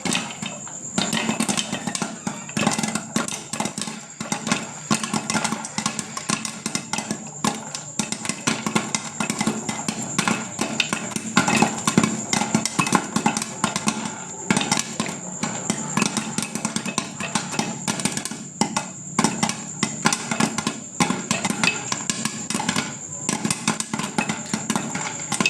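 Popcorn kernels pop inside a covered pan over a gas flame, a dense run of sharp irregular bursts and rattles against the lid, close and fairly loud, continuing throughout.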